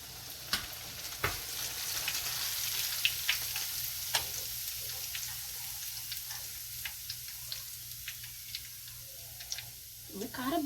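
Boondi snack ingredients fry in hot oil with a faint, steady sizzle, scattered with small crackles and light ticks from stirring.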